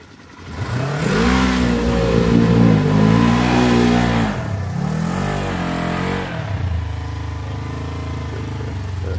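A Polaris General UTV engine revs hard off-road, a loud, close mid-pitched roar rising and falling in pitch for several seconds, briefly easing before settling into a lower steady drone.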